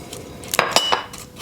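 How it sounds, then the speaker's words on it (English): A spoon clinks against a bowl in a few sharp scrapes and taps while cake batter made with coconut flour and coconut sugar is stirred, close and fairly clear, with no talk. "I'm going to stir that together to mix it in"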